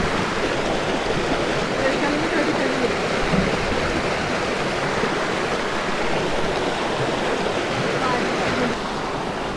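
A strongly flowing stream rushes in a steady, loud, unbroken wash of water close by, with no pauses and no clear voices on top.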